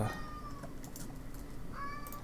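A cat meows in a room, two drawn-out cries heard near and fairly clear, one at the start and one near the end, with light keyboard tapping in the background.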